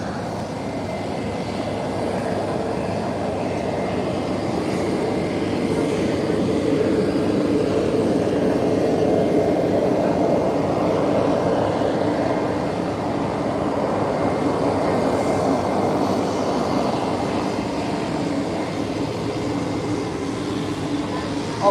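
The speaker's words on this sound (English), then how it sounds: "Frontier 3378 coming in from Miami on an A321neo" Airbus A321neo and A320 jets land at San Juan airport, a broad, continuous roar of jet engines that swells in the middle and fades slightly, heard from a distance without interruption.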